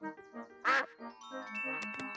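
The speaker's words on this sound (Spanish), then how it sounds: "Es la señora Pato." Cartoon duck quacking in a Peppa Pig episode, a short run of nasal quacks with one louder squawk near the start, set against light tinkling music with no talk.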